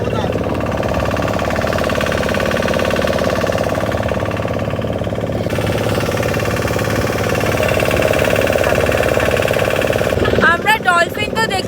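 A motorboat engine on Chilika lake chugging steadily and loudly at close range, a continuous mid-pitched rumble that runs nearly the whole time before easing off near the end.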